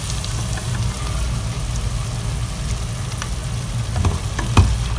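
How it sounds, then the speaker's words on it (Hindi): Okra masala with green chillies and yogurt fries on a medium flame, a steady close sizzle with occasional stirring clinks and scrapes against the pan. "और इसे मीडियम फ्लेम पर मज़ीद 2 से 3 मिनट के लिए फ्राई कर लें।"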